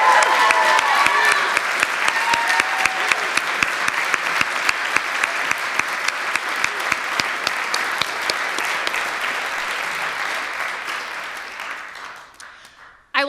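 An audience at a peace oratorical contest applauds the finalists with steady, full clapping that holds for roughly eleven seconds, then thins and fades out near the end.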